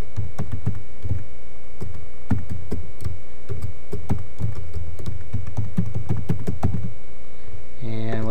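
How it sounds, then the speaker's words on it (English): Rapid, irregular clatter of keys on a computer keyboard while entering account login details, close and fairly loud, with bursts of strokes and short pauses and a brief electronic tone near the end. "And let's type it in again."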